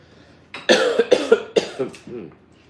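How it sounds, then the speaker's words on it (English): A person coughs several times in a quick burst of sharp, close coughs, with a brief throat-clearing or vocal sound trailing off at the end. "Don't be coughing on that."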